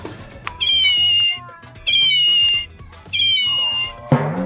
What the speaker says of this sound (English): from little kitties that make noise